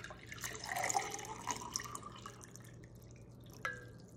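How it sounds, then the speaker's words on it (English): Soft trickling and dripping of water filling a drinking glass, quiet and close, with a brief clear drip near the end. "We're going to fill our drinking glass with water."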